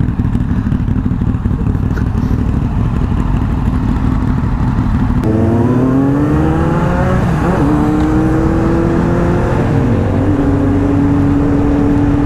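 Motorcycle engine revving on a road, a loud, rough, steady roar that shifts partway through into rising and falling pitch sweeps as it accelerates through the gears, with no voices.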